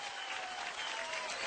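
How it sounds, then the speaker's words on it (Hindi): Audience at an awards function applauds on cue, a dense, steady wash of clapping that holds at even loudness throughout. "परिणीति के लिए एक बार जोरदार तालियां हो गए"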